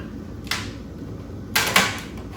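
Old, hardened rubber window run channel from a 1975–79 Chevrolet Nova rear door snaps and crumbles as it is pulled out, giving two short, crisp crackling bursts close up in a quiet space.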